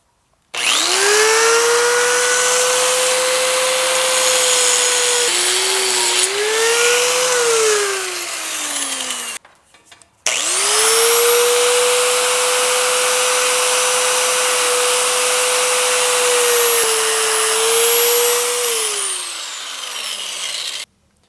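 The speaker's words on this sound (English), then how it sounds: "I'll just take the grinder and try to grind that head off" A high-pitched grinder whines steadily on metal, grinding the head off a car door hinge pin in two long runs separated by a brief pause, loud and close, with pitch dipping as pressure changes.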